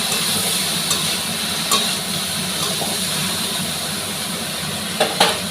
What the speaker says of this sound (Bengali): এদিকে মাছ ভাজছি।